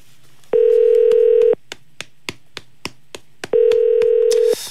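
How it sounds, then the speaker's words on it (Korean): A telephone call being placed that fails to connect: a long steady tone, then a quick series of short clicks or taps, then the steady tone again, loud and clear with no talking. "전화가 쉽게 안 가네요."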